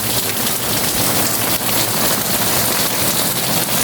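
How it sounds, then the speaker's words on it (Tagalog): Heavy rain pours down in a dense, steady roar of drops hitting surfaces nearby, loud and unbroken throughout with no voices. "Tignan niyo po, muulan po yan oh."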